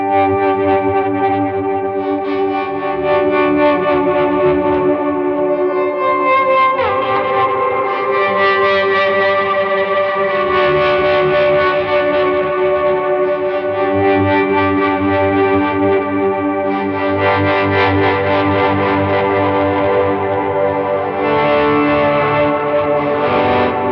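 Sustained electric guitar tones swell in slowly and hang in the air through Pog and Mel9 pedals, layered with echoing delay repeats and a shimmering, effected wash, playing continuously without voices.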